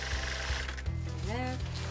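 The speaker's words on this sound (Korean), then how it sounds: "삼배는 원단이 일반 직물보다 성그러 재봉틀로 서너 번 박아줘야 하는데요" A sewing machine stitches coarse, loosely woven hemp fabric into a summer blanket, its quiet mechanical chatter running steadily with faint periodic knocks while a person speaks briefly over it.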